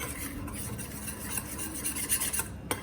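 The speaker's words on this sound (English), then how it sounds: "You have to whisk it properly." Gram flour (besan) mixture is whisked with a quick, rhythmic scraping and swishing, fairly faint and close, ending with a sharper clink; no voices.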